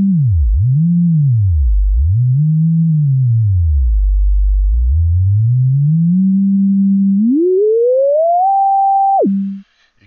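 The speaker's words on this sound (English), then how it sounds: "you hear a little more degree of bend the smaller your range is that you're bending" A pure synthesizer oscillator tone built in Pure Data, loud and alone, sweeping and wobbling in pitch under MIDI pitch bend, dipping low, then gliding steadily upward to a high held note before a sudden drop and cutoff.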